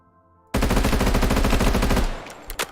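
A submachine gun fires in a sustained, rapid automatic burst in Minecraft with the Create mod and its addons, loud and close for about a second and a half, then tapers off with a couple of short trailing bursts.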